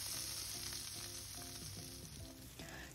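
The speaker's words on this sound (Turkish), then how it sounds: "Tavukları pişirdiğimiz tavanın içerisine şimdi bir yemek kaşığı tereyağını aldım ve eritiyorum." Butter melts and sizzles steadily in a frying pan still coated with the sauce and juices from cooked chicken, a continuous close crackle with light stirring scrapes and no talk.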